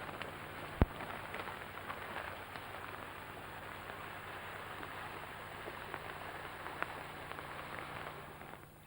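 Rain falls steadily in the Patagonian monte desert, a soft, even hiss of drops with scattered louder ticks and one sharp tap near the start, faint and continuous with no voices.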